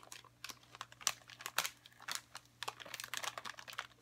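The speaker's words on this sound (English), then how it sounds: "Lots of little crinkling." Freeze-dried banana and strawberry snack packaging crinkles in a steady run of small, close, crisp rustles and crackles, with no voices.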